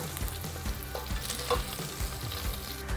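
Sausage and bacon fry in a pan, a continuous crackling sizzle with small pops and stirring scrapes, close and alone without talk.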